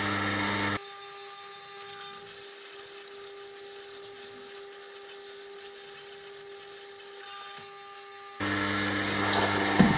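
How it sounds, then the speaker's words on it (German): An old Tormek wet grinder fitted with a Blackstone SB 250 stone sharpens a plane iron, a steady high whirring grind held for several seconds over a constant motor hum, starting and stopping abruptly. "ich habe hier schon mal das Eisen vorbereitet und möchte jetzt mal testen, wie das so schleift"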